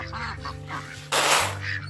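Several Pekin ducks quack nearby in short nasal bursts, with a brief rustling burst of noise partway through.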